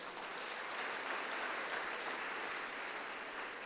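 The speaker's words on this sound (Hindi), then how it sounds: "हमारे सभी बच्चों के लिए सब एक साथ ताली बजाएं और स्वागत करें अपना" Audience applause at a school talent award ceremony, a steady dense clapping from a crowd that holds evenly throughout without pause, no voices over it.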